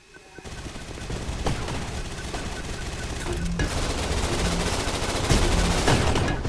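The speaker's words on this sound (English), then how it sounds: "Those grenade launchers be good though." Dense automatic gunfire and grenade-launcher blasts in the shooter game Gun Raid, continuous and loud throughout with rapid overlapping shots and heavier thumps.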